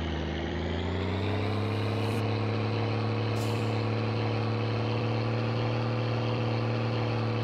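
An old truck in the video game My Summer Car pulls away in first gear, its engine giving a loud, steady low drone with a continuous rumble and no pauses.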